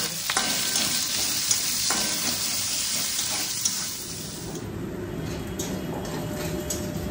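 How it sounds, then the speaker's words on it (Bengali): Chopped onions drop into hot oil in a pan for a Sunday lunch dish and fry with a steady, dense sizzle that runs the whole time, with a few faint clinks and stirring scrapes. "এরপরে দিয়ে দিচ্ছি কেটে রাখা পেঁয়াজ।"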